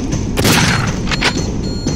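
A bomb blows up in the zombie shooter game Zombotron, giving a loud booming burst with a few quick follow-up thumps across two seconds, heard over steady game background noise with no talk.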